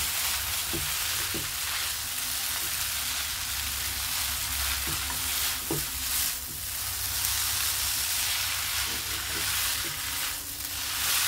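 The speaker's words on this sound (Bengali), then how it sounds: "আমি মশলাগুলো ভালোভাবে মিশাই নিব" Noodles with spices are stirred in a frying pan, a loud, dense sizzle running throughout with soft utensil knocks and scrapes scattered at irregular intervals.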